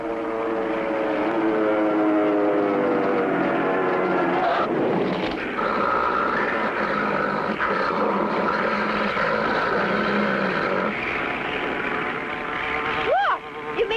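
Cartoon crop duster propeller airplane from 1959 diving, a loud continuous engine drone with shifting pitch under background music and voices, ending in a rising whine.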